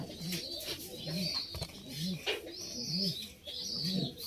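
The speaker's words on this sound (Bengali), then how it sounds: "এই দুটি হচ্ছে বিবি এটা মাদি কবিতর" A female pigeon and her mate give repeated low, rolling coos at a steady rhythm, close by, with light chirps and brief rustles between the calls.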